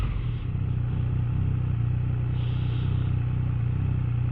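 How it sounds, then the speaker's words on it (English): Triumph Street Triple RS 2023 motorcycle exhaust, a steady low engine drone with a faint clattering texture, heard continuously while riding at cruising speed, no voices. "I'd heard the exhaust is a little bit louder this year."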